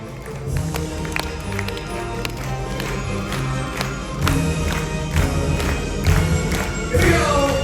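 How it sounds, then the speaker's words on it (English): An audience at a military appreciation event claps in rhythm for Navy veterans, with sharp hand claps on a steady beat over a band's sustained music and a low crowd murmur. "Clap those hands."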